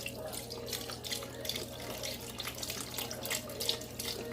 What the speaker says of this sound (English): Now it's time to add the 4 cups of the beef broth, which is basically this entire thing here.